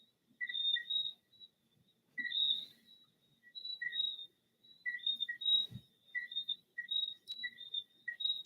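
Tree frogs calling outside at night: short high-pitched beeping chirps repeated in irregular bursts, fairly faint against a quiet background.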